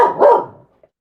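A dog's sharp bark bursts out close and loud, followed by a short fading tail and one faint yip, with no talking.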